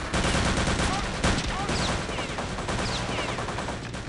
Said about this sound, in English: Oh, they're shooting through the floor.